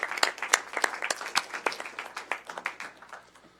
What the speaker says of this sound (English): I want to just give you a round of applause.